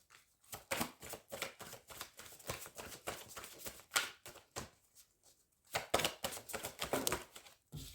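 Oracle cards are shuffled and drawn by hand in a quiet room: a fast run of soft crisp riffling and flicking card sounds, close up, in bursts with short pauses, no voice.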